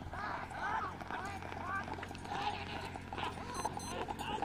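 Hooves pound quickly as horses gallop past on Manori Beach, a running clatter heard under people talking and shouting.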